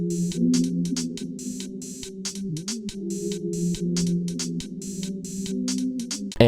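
A closing music loop from a remake of a song, a sustained tonal sample under a steady pattern of crisp percussive hits, played alone at moderate level.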